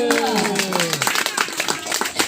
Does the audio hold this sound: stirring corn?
no